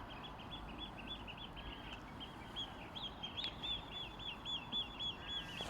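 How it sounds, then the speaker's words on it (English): Birds calling at a small boat pier in Carlingford, thin repeated calls over a steady outdoor wash of wind and water, fairly distant, growing a little busier toward the end. "Very nice birds."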